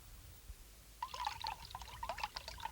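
Water pours and trickles into a cup, a bright bubbling stream with small drips that keeps going for nearly two seconds after a quiet start.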